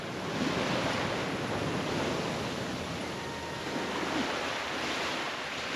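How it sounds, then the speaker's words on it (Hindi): Big ocean waves breaking at Kala Pathar Beach on Havelock Island in the Andaman Islands, a steady broad roar of surf with some wind across the microphone, continuous and unbroken. "उस साइड में काफ़ी बड़ी लहरें आ रही है"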